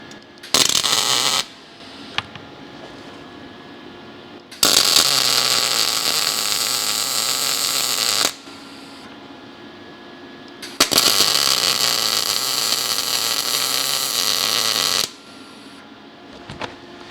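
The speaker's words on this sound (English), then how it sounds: "And I'm welding about 20mm, 3/4 of an inch at a time" Short bursts of electric welding on metal, laid about 20mm at a time during a restoration job, loud crackling spells of a few seconds each separated by quieter humming pauses, with no talking.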